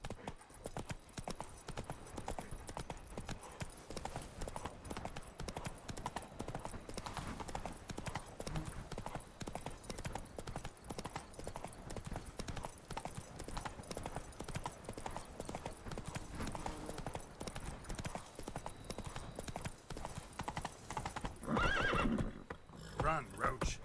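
Roach, the horse in The Witcher 3: Blood and Wine, gallops with steady rapid hoofbeats and occasional whinnies over game music, with a voice speaking briefly near the end.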